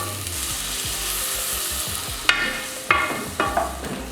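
A curry dish cooks in a pan with a steady close sizzle and frying hiss. Three or four sharp scraping stirs break through near the end, and no one speaks.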